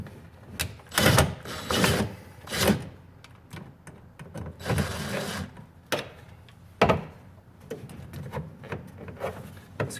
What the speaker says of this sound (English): Screw them down into place.